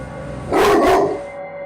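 A dog gives one short, fairly loud bark or yelp indoors in a living room, a single burst lasting under a second against quiet room background.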